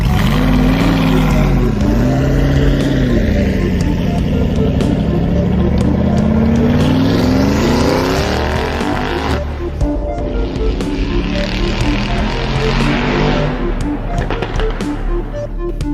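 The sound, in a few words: off-road truck engine revving in deep mud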